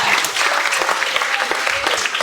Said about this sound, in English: Big round of applause for Kane